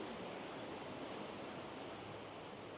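Rushing river water at the old city mill on the River Itchen in Winchester, a steady broadband roar that stays loud and continuous throughout, with no voices.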